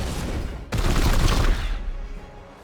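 Support fire in Warhammer 40,000: Chaos Gate, a loud burst of gunfire kicking in suddenly and rattling for about a second before tailing off into a fading rumble.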